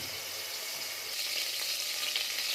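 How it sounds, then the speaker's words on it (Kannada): Mustard seeds crackle and sizzle in hot oil inside a pressure cooker on the stove, a dense, even frying hiss that swells slightly partway through, close and continuous. "ಅದಕ್ಕೆ ಇವಾಗ ಸಾಸಿವೆ ಹಾಕ್ತಿದ್ದೀನಿ"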